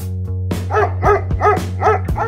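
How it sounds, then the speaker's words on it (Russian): Pit bull barking at a couple hugging, giving about five sharp, close barks in an uneven rhythm over a steady low hum, with no talk. "Зачем собаки гавкают на объятия?"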